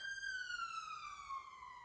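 Ambulance siren wailing in a single falling tone sweep, moderately loud with steady background hum and no voices.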